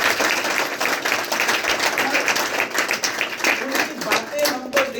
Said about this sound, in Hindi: तो ताली बनता है कि नहीं?